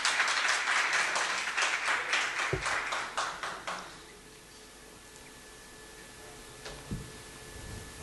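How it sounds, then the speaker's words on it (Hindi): An audience at a Hindi poetry recital of ghazal and shayari claps in a quick run of steady rhythmic bursts for about four seconds, then fades to a quiet room with a couple of faint knocks. "तालियां बजनी चाहिए तो हौसला मिलता है।"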